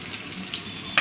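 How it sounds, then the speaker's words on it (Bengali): Prawns frying in oil in a pan, a soft steady sizzle running the whole moment with a brief brighter crackle near the end; fairly quiet, no voices. "চিংড়ি মাছ তেলের উপরে দিয়ে নিলাম"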